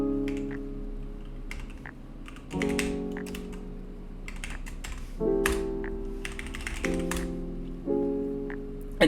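Keys on a computer keyboard are tapped in quick irregular bursts while a Linux terminal command is entered, close and clear over a steady low electronic hum.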